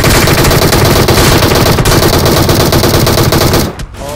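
Rapid, loud machine-gun fire sprays in a continuous burst at close range for several seconds, then cuts off abruptly.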